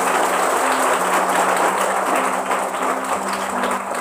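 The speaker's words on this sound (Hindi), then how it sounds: "हम पवित्र आत्मा के लिए जोरदार ताली मारेंगे।" A church congregation claps loudly for the Holy Spirit in dense, sustained applause that fills the room for a few seconds, with no speech over it.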